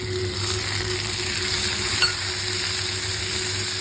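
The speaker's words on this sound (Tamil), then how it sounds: "இப்போ அரிஞ்சு வச்சுருக்கிற தக்காளியை சேர்த்துக்கலாம்" Chopped tomatoes sauté in hot oil for chana masala, giving a continuous even sizzle with a single faint clink of utensil on pan partway through.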